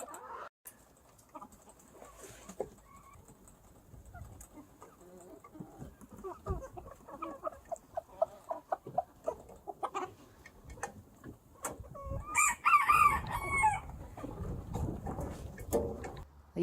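Farm chickens clucking close by, soft scattered clucks building into louder, busier bursts with a brief squawk partway through, over a quiet outdoor background.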